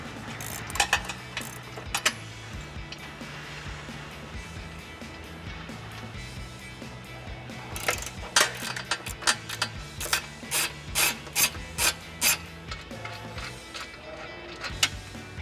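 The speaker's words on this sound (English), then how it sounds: "We're gonna use an 18 millimeter deep socket to remove those." Ratchet clicking with an 18 mm deep socket on a 3-inch extension while removing bumper bolts on a 2012–2018 Jeep Wrangler JK; bursts of quick mechanical clicks, densest in the second half, close and fairly loud.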